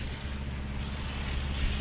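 A boat motoring through waves, with a steady low engine hum and the wash of water and wind noise, continuous and without talk.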